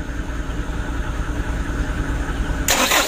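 Mitsubishi Canter truck diesel engine, repaired for hard starting by replacing the plunger, idling with a steady, close, rough rumble, then a sudden loud broadband burst near the end.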